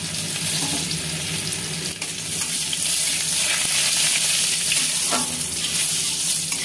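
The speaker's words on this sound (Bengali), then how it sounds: "রসুনটা ভাজা হয়ে গিয়েছে" Crushed garlic with nigella seeds and a whole dried chilli frying in hot oil, a loud continuous sizzle with occasional stirring scrapes, close and without talk.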